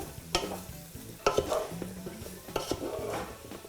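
A spoon stirs an okra dish in a pan, with several scraping clinks against the metal over a soft sizzle, close and fairly quiet.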